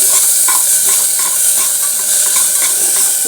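Oats khichuri base with salt and turmeric being stirred in a hot pan, with a loud continuous sizzling hiss and soft repeated scraping strokes, close by and with no voice.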